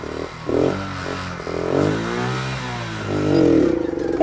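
An engine revs up and down repeatedly, rising in pitch in strong surges, loud and close, with no talking.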